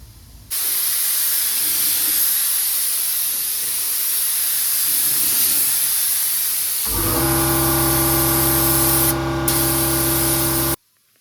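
A spray gun lays primer on a 1979 Plymouth Volare wagon panel, a loud, continuous close-up hiss that is joined midway by a steady tonal hum from nearby equipment, with no talk.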